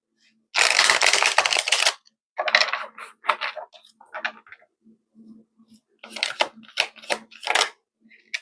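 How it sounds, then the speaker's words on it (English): Tarot cards are shuffled in a long, crisp riffle burst, followed by shorter bursts of card flicking and tapping with pauses between, close and clear, and a low murmur faintly underneath. "I'm going to shuffle one more time."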